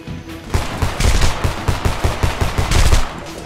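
Dense gunfire and grenade blasts in the shooter game Homefront, a rapid run of loud overlapping shots and bursts sustained over a few seconds with no talking.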